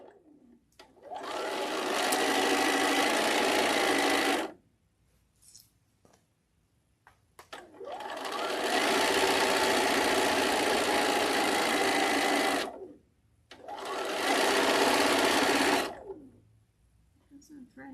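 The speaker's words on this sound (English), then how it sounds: "and then start sewing" A sewing machine stitching in three long, steady runs separated by short pauses, loud and close, during a live sewing session.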